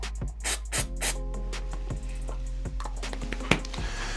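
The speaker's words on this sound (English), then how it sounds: "you can use some activator spray, which basically instantly dries that glue" Activator spray is misted onto freshly applied glue to set it instantly while securing cords on a droid remote. Several short, close hissing bursts come in quick succession early on, then quieter handling noises follow.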